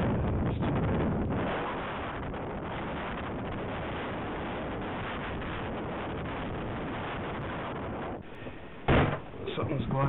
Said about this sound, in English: Something's blocking the door.